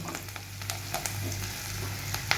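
Four chopped green chillies sizzle in hot oil, making a quiet, steady frying hiss with small pops and a few light stirring scrapes, with no voices.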